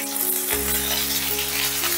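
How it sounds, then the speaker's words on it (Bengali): Grated ginger and finely chopped green chillies sizzle in hot oil with cumin for a stuffed cabbage paratha filling. A steady close-up frying hiss runs throughout, with a low hum underneath and no talking. "আদা আর কাঁচা লঙ্কাটা হালকা নাড়াচাড়া করে নেব"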